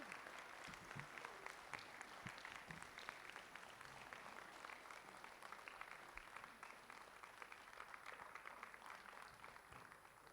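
An audience at a New Year's greetings ceremony applauds, a sustained even patter of many hands clapping that is heard faintly and from some distance.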